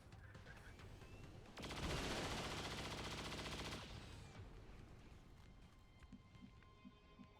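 A burst of sustained automatic fire at a turret in XCOM 2 with the LWOTC mod, about two seconds of loud rattling shots rising out of quiet ambience, then fading back to low background hum.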